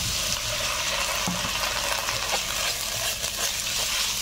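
Chopped onion fries with ginger-garlic paste in hot oil, giving a steady close sizzle with soft scraping clicks from stirring in the pan.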